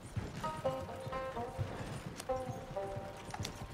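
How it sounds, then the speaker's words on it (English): Horse hooves clip-clop steadily in Red Dead Redemption 2, with a faint whinny and game music layered over a continuous ride. "Come on, horse, go faster."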